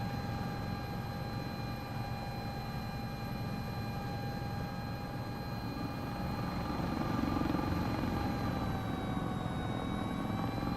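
A simulated helicopter rotor and turbine engine drone steadily in a flight simulator game, with a constant high whine and a low rotor thrum that swells slightly near the end.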